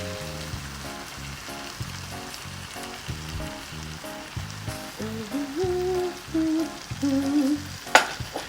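Eggs fry and get stirred with bitter gourd in a hot pan, a soft steady sizzle with scraping stirs, fairly quiet under background music with melodic tones.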